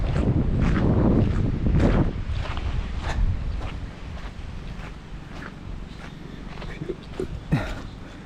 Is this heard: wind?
yes